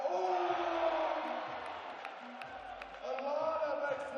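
A basketball crowd at a Wellington Saints home game against the Manawatu Jets sends up a fairly faint swell of cheering and chanting, which rises again near the end.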